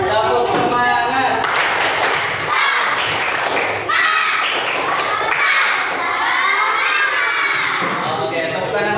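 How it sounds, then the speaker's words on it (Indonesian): Schoolchildren in a classroom repeat the rhythmic 'tepuk semangat' clapping chant, with loud shouting, cheering and clapping that fill the whole stretch as one noisy group. "Oke, sekali lagi ya. Tepuk semangat."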